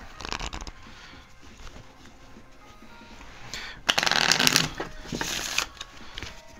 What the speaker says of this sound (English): And shuffle my deck.